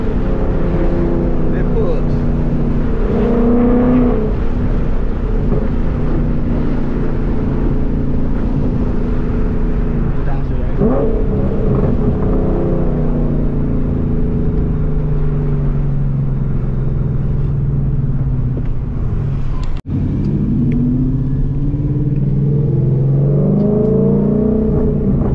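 A car running on E85 fuel pulls hard, its exhaust droning loud and steady as the engine revs climb and shift through the gears, with people talking over the sustained roar.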